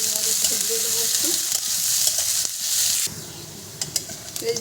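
Sliced onions sizzle steadily in a hot pan of oil, with a bright continuous crackle and a few stirring scrapes mixed in.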